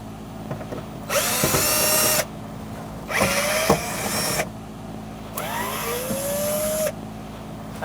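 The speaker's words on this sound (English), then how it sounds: "Using a Phillips head, we're going to take out these 4 screws." Power drill removing Phillips head screws from the floor of a 2012-2019 Fiat 500 with a 1.4L four-cylinder engine, three close bursts of whirring motor about a second long, each separated by short pauses, with a rising pitch as the screw spins loose.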